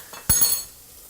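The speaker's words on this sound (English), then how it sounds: "We don't want the pasta sticking together, so give it a nice stir." Twisty pasta gets stirred in a cooking pot: a sharp metallic clink of the spoon against the pot rings out, followed by a softer second knock, then quiet bubbling background.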